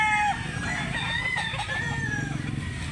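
Several chickens on a rooster farm in Mantalungon, Barili, Cebu, with a rooster crowing clearly up close and hens clucking around it against steady farmyard noise.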